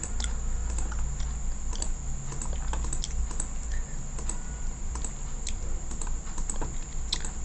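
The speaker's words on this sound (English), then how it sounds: "Just type in your dimension." Fingers tap steadily on a computer keyboard while floor dimensions are entered in Revit, producing quick irregular clicks over a constant low hum, with no talking.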